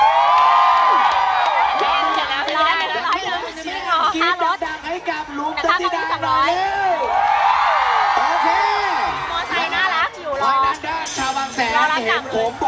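A large crowd at a summer beach party concert screams and cheers loudly and continuously, with high-pitched shrieks and whoops rising and falling, while an emcee talks over the noise.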